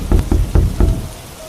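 Heavy rain serves as a story sound effect, a dense wash of falling water broken by several loud, low, uneven splashing thumps before easing off near the end.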